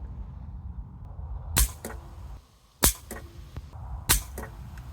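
Three sharp, spaced pops from an air rifle firing pellets at a target 40 yards away, each crack crisp and close, with a faint thud trailing some shots over a quiet outdoor background.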